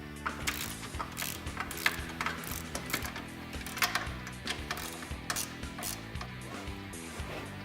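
Ratchet with a 15mm socket backs out a rear frame bolt on a Polaris RZR side-by-side, giving rapid repeated clicking pawl strokes in quick bursts, close and fairly quiet, with no talk.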